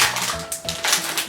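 Crinkly foil of a Hello Kitty blind bag being tugged and torn open, a close, dry rustling and crackling in quick bursts with no talking.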